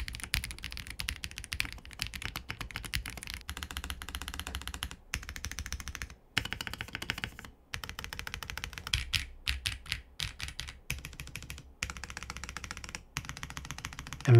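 Fast, steady typing on a Zoom 98 mechanical keyboard fitted with PE foam, a dense run of crisp close-up keystrokes with only a few brief pauses, heard alone.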